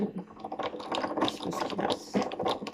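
A refrigerator makes continuous mechanical rattling and clicking with an irregular, ratchet-like rhythm, steady and moderately loud, with no talking.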